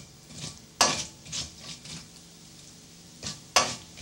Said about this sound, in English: So we'll just add a little bit of these red chili seeds. And again, wait for it to sizzle.